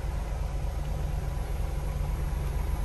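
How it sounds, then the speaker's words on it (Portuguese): A truck engine idles steadily in a roadside stop after a bus breakdown, a low, even rumble with faint vibration holding constant throughout, with no voices over it. "eu vou ligar o caminhão."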